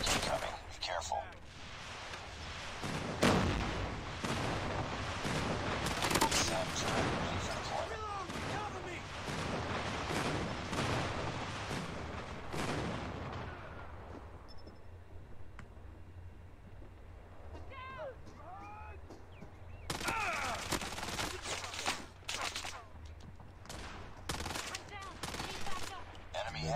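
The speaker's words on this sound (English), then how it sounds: "Enemy airstrike incoming." Heavy gunfire and explosive bursts from an airstrike in the mobile shooter Call of Duty Mobile, dense rapid shots for about thirteen seconds, then a quieter stretch with radio-style voices, before loud firing resumes.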